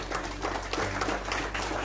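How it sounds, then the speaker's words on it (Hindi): A seated crowd at an apple farming awareness programme claps, a brief dense patter of applause at moderate distance, steady with no individual claps standing out. "थोड़ा बहुत तालियों से स्वागत करिए।"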